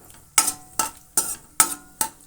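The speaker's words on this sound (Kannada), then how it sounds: "ಗೋಡಂಬಿ ಈ ರೀತಿ ಎಣ್ಣೆಯಲ್ಲಿ ಫ್ರೈ ಆಗಬೇಕು ಕೆಂಪಗೆ" Cashews frying in oil, with five sharp, evenly spaced scrapes and clatters as the nuts are stirred in the pan, close and fairly loud.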